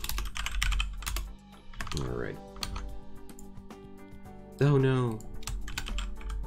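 Rapid clicks of a computer mouse and keys come from someone playing a restaurant tycoon game, quick and close, with someone talking briefly in between.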